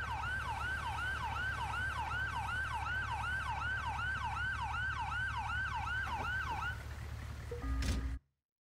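A wailing ambulance siren in the GTA V video game, cycling steadily in a rising and falling pattern over a low engine rumble, loud and continuous before cutting off abruptly at the end.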